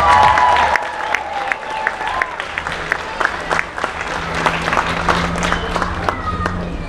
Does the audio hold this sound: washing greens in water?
no